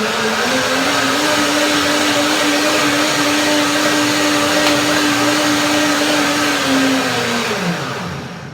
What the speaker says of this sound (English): when I put it in the juice in the mixer